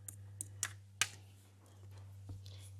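Scattered keystrokes on a computer keyboard, a few light clicks close by over a steady low hum, faint and sparse.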